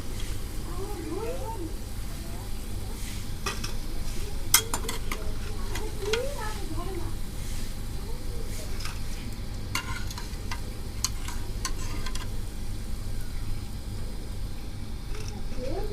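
Sweet egg-and-flour fritters fry in hot oil, giving a steady soft sizzle throughout with occasional clinks and stirring scrapes, while a person talks quietly over the cooking.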